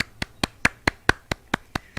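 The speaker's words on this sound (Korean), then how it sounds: "박수로 영광을 올려드리겠습니다" A church congregation clapping together in a steady rhythm at the close of a prayer service, with about ten even claps in quick succession.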